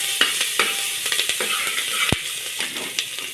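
Ginger-chili paste sizzles in hot tempering oil with dried chilies, cloves, cinnamon and bay leaf for Swaminarayan khichdi, a steady close crackle broken by spoon scrapes and taps against the pot.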